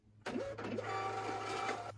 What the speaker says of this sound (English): I'm loving the printer.